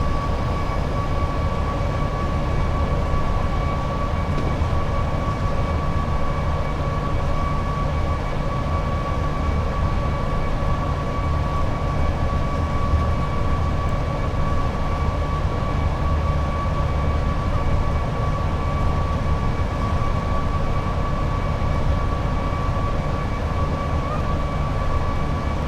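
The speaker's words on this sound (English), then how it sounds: "Ooh, container train going the other way." A container freight train passes on the adjacent track in the opposite direction. It is heard from inside a moving train as a steady, loud, continuous rumble and roar with a faint tonal whine, and no voices are present.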